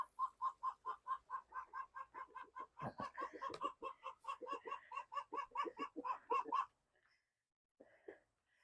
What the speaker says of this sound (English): for whatever reason, that was Flower squawking